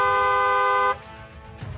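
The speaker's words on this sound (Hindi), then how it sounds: "हॉर्न बजाने की जरूरत है।" Vehicle horn honking, one loud, steady, sustained toot lasting almost a second and then cutting off abruptly, followed by low background noise.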